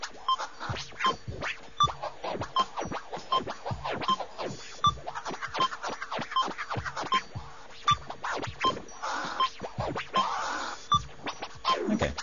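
Turntable-style scratch effect built in FL Studio and played back at full speed, a busy run of quick choppy scratches with short sweeping bursts, steady and fairly loud throughout with no voices.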